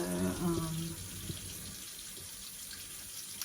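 Tap water runs steadily into a sink while bleached hair is rinsed, a continuous broadband wash with a brief low voice or tone near the start, then a constant, fairly close flow.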